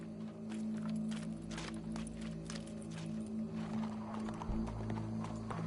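Horse hooves clip-clop steadily in Red Dead Redemption II, with occasional snorts over a constant game ambience and low hum, moderately close and continuous throughout.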